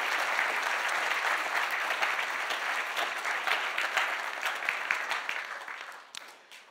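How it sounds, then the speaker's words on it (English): Congregation applauding a choir director and narrator at a Sunday morning church Christmas program, sustained dense clapping that holds steady, then thins and fades out over the last second. "I want to hear one more round of applause for our choir director and our narrator here"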